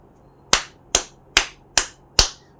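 Five sharp, evenly spaced hand claps ring out alone at a steady, deliberate pace, each one loud and close with a quick decay, over a quiet background.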